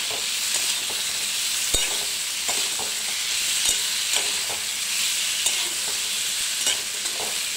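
Poppy seed paste with turmeric sautéed and stirred in a pan, a steady soft sizzle broken by scattered clicks and scrapes of a spoon against the pan.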